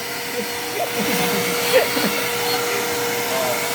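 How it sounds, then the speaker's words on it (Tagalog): A vacuum cleaner runs during dust removal before waterproofing, giving a steady, fairly loud motor whine and rushing air with slight shifts in pitch. "Ayan yung ano, vacuum."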